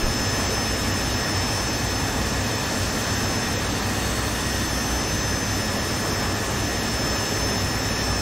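A jet engine in a flight sim roars at full thrust with its vectored nozzles swung to push forward, a loud, continuous broadband blast with a thin steady whine on top, unbroken and alone.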